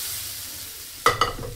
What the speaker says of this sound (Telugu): మనము మెదిపి పక్కన పెట్టుకున్న పప్పును అందులో వేసుకోవాలి